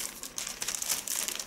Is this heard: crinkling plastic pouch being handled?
yes